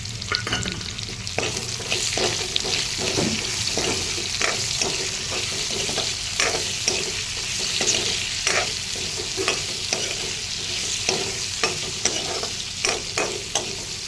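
Sliced onions sizzle and fry steadily in a pan for a chicken curry with bamboo shoot, with repeated scraping stirs breaking through at an irregular rhythm, close and fairly loud, no voices.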